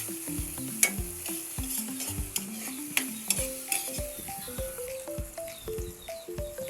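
Onions and tomatoes stirred in a frying pan, a steady moderate sizzle under repeated spatula scrapes and light clicks against the pan, close with no talk.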